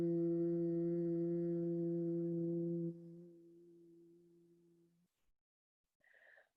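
A steady low hum from one person during a gentle therapeutic yoga session. It holds at one pitch for about three seconds, then drops in loudness and continues softly for two more before stopping. A faint higher tone is heard near the end.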